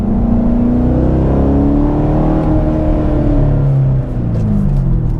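A 2019 Chevrolet Corvette with a new exhaust revs loudly and close, its engine note climbing and falling in steady sweeps with a deep, continuous rumble throughout.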